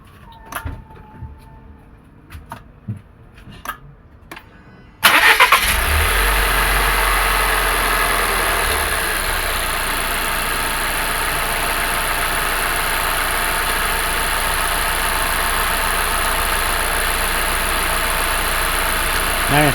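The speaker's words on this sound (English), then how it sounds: "So we're going to start the car." A 2018 Volvo XC60 engine cranks and catches after a few quiet clicks and knocks, then settles into a steady, loud idle rumble that continues to the end.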